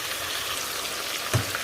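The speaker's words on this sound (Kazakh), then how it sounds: "Енді тағы да қызартып қуыра береміз етті." Lamb meat frying in a kazan gives a steady, quiet sizzle with a soft crackling hiss throughout and one brief louder pop near the end.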